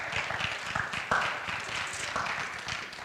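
A church congregation claps together in steady applause that fills the room, dense and even throughout with no one speaking over it.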